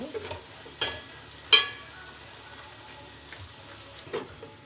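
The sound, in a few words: cauliflower and potato frying in a pan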